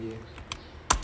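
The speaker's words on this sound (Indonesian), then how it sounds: "Kita ketik di sini npm" Brief typing on a computer keyboard, a few soft clicks followed by a sharper louder keystroke at the end, heard close with a voice faintly underneath.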